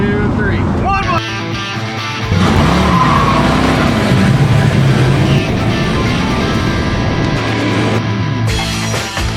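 A 1954 Chevy Suburban fitted with an aftermarket brake booster runs a 60-to-0 stop, giving a loud, steady roar of engine and road noise that rises as it builds speed, with voices talking over it.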